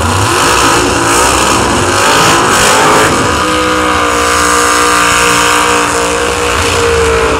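Drag racing cars accelerate hard down the strip at a nostalgia drag event, a loud sustained engine roar rising in pitch, first as a blended blast and then as distinct climbing tones as the cars pull away.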